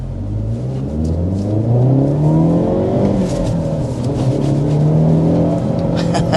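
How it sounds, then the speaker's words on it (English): A 2024 Hyundai Elantra N accelerates hard, its engine note loud and close, rising in pitch through the revs with a brief dip at a gear change before climbing again, no talking. "we want to go ahead and start with a hard acceleration."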